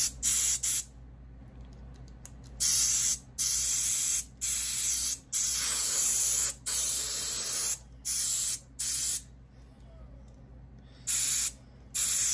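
An airbrush fed by a compressor sprays paint onto a Godzilla go-kart model in steady hissing bursts, starting and stopping rhythmically around a dozen times, close and fairly loud.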